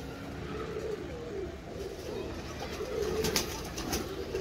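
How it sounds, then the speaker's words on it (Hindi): Pigeons kept for competition coo in low, throaty, repeating warbles close by, with faint outdoor background noise and a few brighter chirps near the end. "कबूतर बड़ा अच्छा है भाई"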